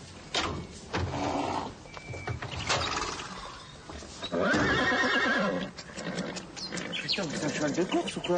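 A horse whinnies and snorts in a loud, close, shaky neigh, with people talking over and around it.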